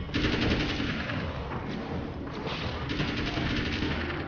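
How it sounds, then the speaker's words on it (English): Rapid submachine gun bursts from the video game Alan Wake's American Nightmare, loud and dense, with a continuous rattle of automatic fire running through the whole stretch with only brief dips. "I almost feel like the submachine gun is actually better."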